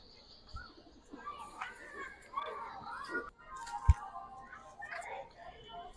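A female pigeon coos softly in a loft among other birds, low brief calls mixed with chirps and rustling while people talk nearby.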